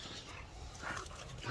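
Puppies making soft, faint whimpering and yipping sounds in a quiet indoor room, brief and close.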